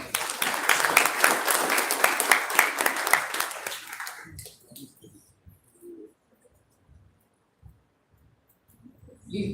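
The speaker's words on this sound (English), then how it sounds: "Let's give him a big round of applause." Audience applause at a literature and life club inauguration, dense clapping for about four seconds that then stops abruptly, leaving quiet room sounds and faint murmurs.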